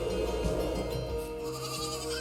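Sheep bleat in the video game Aer: Memories of Old, a few wavering calls rising over a steady ambient music bed, moderately loud and close, with no talking.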